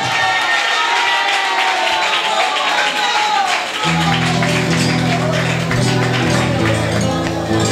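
Crowd applause and cheering for a guitarist at an evening flamenco show in Chipiona, loud and sustained throughout, joined midway by guitar or music beneath the clapping.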